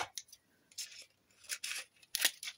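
Scissors cutting a paper strip in a quiet room: several short, crisp snips at irregular intervals, close and fairly soft, with near silence between them.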